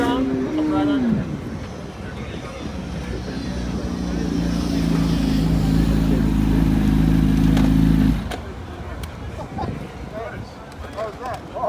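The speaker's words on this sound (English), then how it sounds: "I'm about to go for a ride on this Suzuki." A Suzuki motorcycle on a MotoAmerica race track in Pittsburgh gives a loud, close engine roar that climbs in pitch, holds a steady drone, then drops off abruptly. Voices can be heard around it.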